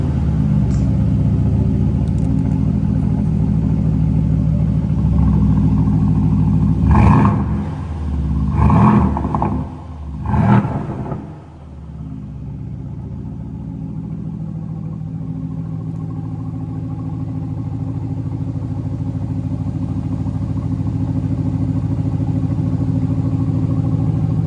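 A 2018 Aston Martin DB11 V8 coupe, already warm, idling with a steady deep rumble, then a few sharp blips of revs around the middle before settling back into a smooth, even idle.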